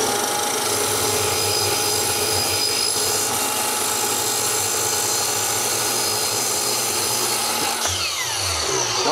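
A power saw runs steadily as it cuts fine cabinet-grade plywood for an office desk, a loud continuous whine that holds throughout and shifts slightly near the end as the cut finishes.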